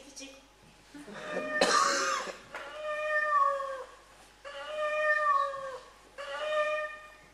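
A small black and white cat gives four drawn-out meows, each rising then falling, evenly spaced and fairly close, with a brief rough throat-clearing sound between the first two.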